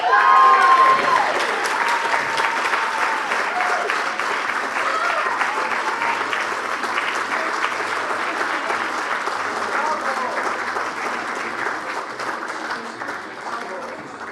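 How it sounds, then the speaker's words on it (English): Warm, sustained applause from a dinner audience at an aerospace media awards presentation, greeting an award winner; dense clapping starts loudest and gradually fades over the stretch. "A huge round of applause for the winner of this one."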